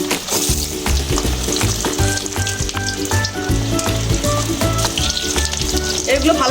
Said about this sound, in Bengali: এগুলো ভালো করে ভেজে নিচ্ছি।